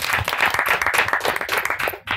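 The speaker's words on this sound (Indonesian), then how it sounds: "Yo, tepuk tangannya weh." Studio audience applause at an Indonesian talk show, a dense burst of clapping lasting about two seconds that cuts off abruptly at the end.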